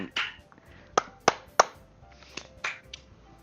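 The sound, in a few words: applause sound effect from a video game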